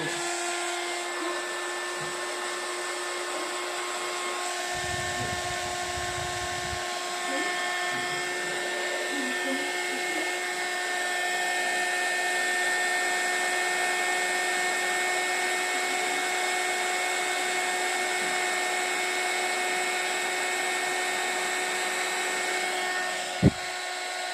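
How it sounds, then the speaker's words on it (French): Heat gun warming a craft card to raise a textured effect for scrapbooking and cardmaking: a steady blowing hum with a high whine continues for the whole stretch, near and fairly loud, with a brief sharp click at the end. "il ne me reste plus qu'à chauffer avec mon heat gun"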